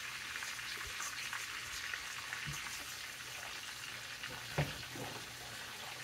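Beef patties frying in gravy in a pan, with a steady soft sizzle and bubbling broken by occasional louder pops and clicks.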